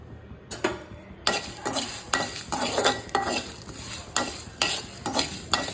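Mustard seeds frying in a pan for chalta (elephant apple) pickle, a close crackling sizzle broken by repeated scraping stirs of a utensil against the pan, steady and fairly loud with no talk.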